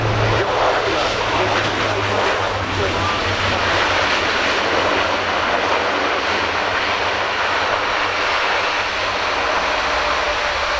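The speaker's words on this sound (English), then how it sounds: "as we see the aircraft now going to deeper thrust and start to reverse up the runway" Loud, continuous roar of an Airbus A400M's turboprop engines at an air show, building as the aircraft applies reverse thrust and backs up the runway, with a steady broadband rush and low drone throughout.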